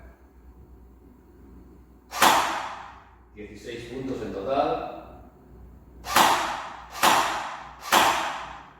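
Four shots hit a shooting target in sharp, crisp impacts that ring out singly, the last three in a steady rhythm about a second apart, with a short spoken phrase in between.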